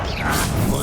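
The Depulso spell cast in Hogwarts Legacy gives a brief, forceful whooshing burst lasting under a second, with a voice present over it.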